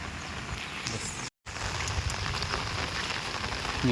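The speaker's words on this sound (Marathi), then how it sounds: "पहिला पाऊस आहे" Rain during the first monsoon shower, a steady broadband patter on the ground that holds constant throughout, with a brief dropout just after the first second.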